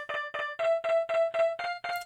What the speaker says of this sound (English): let's say if I wanted to put an arpeggiator on this